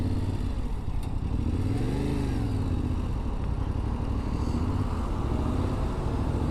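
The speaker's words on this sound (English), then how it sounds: "Second gear. Very smooth engine." A Yamaha Tenere 700 motorcycle is ridden with a loud, steady engine drone and wind rush, its pitch rising and falling through a gear change partway through.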